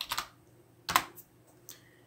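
Keys clack on a computer keyboard while entering code for an Arduino servo project, a few quick separate taps with short pauses between them, close and clear with no talking.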